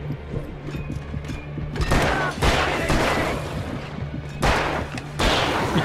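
Gunfire in Alan Wake, several sharp, heavy shots spaced a second or so apart over a low droning background, fairly close with echoing tails.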